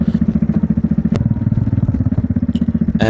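A Kawasaki Vulcan 400 Classic cruiser motorcycle's engine thrums close and loud while riding, a steady low pulsing beat with a brief click and wind noise toward the end.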